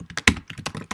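Quick bursts of keystrokes on a computer keyboard while writing code, close and crisp with irregular rhythm and one sharper key strike, no voice heard.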